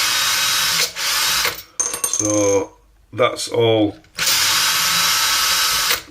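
A power drill bores holes through small beads for a Helix magazine loading rod repair, in two loud whirring bursts separated by a stretch of close talking.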